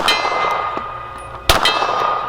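A pistol bullet strikes a silver steel gong target with a green center at an outdoor range, giving a sharp metallic clang that rings over steady background noise, alongside fainter shots and impacts.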